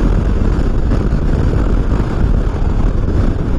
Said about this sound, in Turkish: Yalnız nasıl bir rüzgardır bu ya?